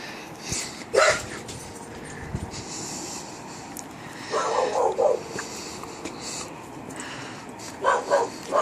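Several dogs bark from inside a garage in short bursts near 1, 4.5–5 and 8 seconds, with small yips and whimpers between, heard at middle distance over steady outdoor background noise.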